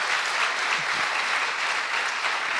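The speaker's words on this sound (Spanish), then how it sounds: "démosle un aplauso a Iñaki, que lo ha explicado súper bien" A church audience claps steadily and warmly for several seconds, a dense even wash of applause close and loud with no talk over it.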